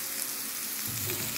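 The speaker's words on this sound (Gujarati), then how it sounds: "હલાવી દઈએ છીએ, 1 મિનિટ સુધી હલાવીએ છીએ." Tomatoes fry in oil for a drumstick sabji as they are stirred, giving a brief, close, steady hiss of sizzling with a soft scrape.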